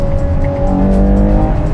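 A Ferrari Purosangue accelerates hard at speed on a German autobahn, its engine giving a steady, loud, continuous drone heard from inside the car, with tire and road roar and no talk.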